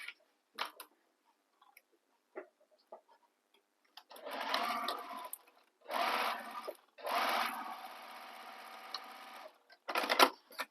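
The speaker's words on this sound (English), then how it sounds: "we're going to sew just the side edges using the seam allowance given in the pattern" A sewing machine stitches the side edges of a fabric bag in several bursts of rapid whirring, each a second or two long, separated by short pauses and faint handling clicks.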